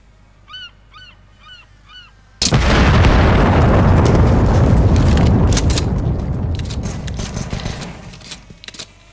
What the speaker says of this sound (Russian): The first wave of missiles are incoming.